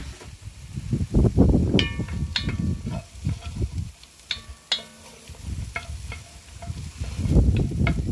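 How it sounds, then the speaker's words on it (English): Onions cook on a Kamado Joe grill while being stirred, giving soft sizzling under irregular scraping and clattering strokes, with a few sharp metallic clinks. "so I'm going to give those onions a stir"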